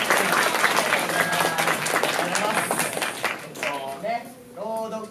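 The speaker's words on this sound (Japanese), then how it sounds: "拍手もう一度お願いします。" Audience applause at a local reading performance in Higashiosaka, loud and dense at first before thinning out, while a voice speaks near the end.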